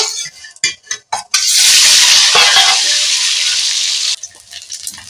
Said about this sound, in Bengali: তেল দিয়ে এবার দিয়ে দেব এই ডিম তিনটি এতে একটু হলুদ মাখিয়ে নেব